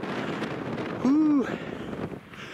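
Strong wind rumbles and buffets the microphone on a cairn in Scotland while a person lets out a brief whooping shout in the middle.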